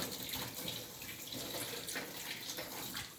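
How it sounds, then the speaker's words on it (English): Tap water runs steadily into a sink as hands are rinsed, a continuous splashing hiss with slight fluctuations and no speech over it. "Now rinse your hands off again. Wash them off again."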